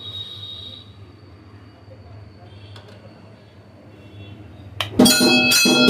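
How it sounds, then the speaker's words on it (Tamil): An automatic temple drum and bell machine starts up after a quiet stretch of low hum, then bursts into loud, ringing metallic clanging near the end. "கோயில் பெல் அருமையாக ஒர்க் ஆக ஆரம்பிச்சிருச்சு"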